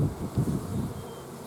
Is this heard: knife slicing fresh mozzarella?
no